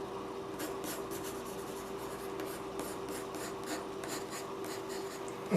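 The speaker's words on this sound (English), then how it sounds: "I like to go back over the carbon pencil and make those lines even darker" A carbon pencil scratches across paper as dark lines are gone over again, giving steady, close, dry strokes that repeat in quick rhythmic bursts without pause.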